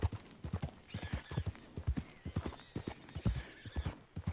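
Horse galloping in the Red Dead Online video game, a steady rapid run of hoofbeats, close and clear, with a faint whinny partway through and no talking.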